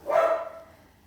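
A single close, loud bark from a household dog, sharp at the onset and trailing off quickly into quiet.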